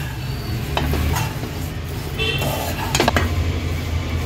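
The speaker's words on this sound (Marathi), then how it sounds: "एक 3 ते 4 मिनिटासाठी मीडियम फ्लेमवर हे पोहे छान आपल्याला परतून घ्यायचे आहेत म्हणजे क्रिस्पी होतात ते." Thin poha flakes roasted and stirred in a pan over medium flame give a soft, steady sizzle with scraping stir strokes, close and fairly quiet.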